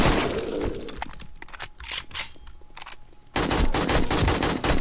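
Gunfire in the survival game 7 Days to Die, played with the Darkness Falls mod, loud rapid automatic bursts near the start and again at the end, broken by a few sharp single shots in between.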